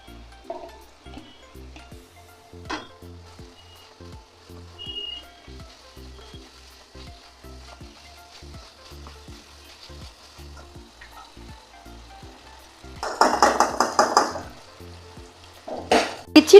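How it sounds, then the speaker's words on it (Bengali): Young jackfruit cooking in a pan, with faint soft sizzling under repeated rhythmic stirring clicks, then a louder burst of frying hiss as more goes in near the end. "এবার আমি এঁচোড়টাকে দিয়ে দেব।"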